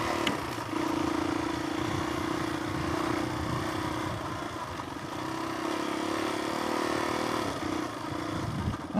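A Suzuki DRZ400E dirt bike, bored to 470, rides along hot trails with a steady mid-pitched engine drone and wind rush, with small shifts in revs and occasional clatter from the terrain.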